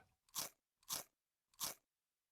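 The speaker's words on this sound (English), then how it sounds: "The girl is noisily chewing her food." Three loud, crisp crunching bites or chews of food, evenly spaced about half a second apart with silence between, close up and with no talking.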